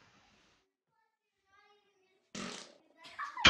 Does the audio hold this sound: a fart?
yes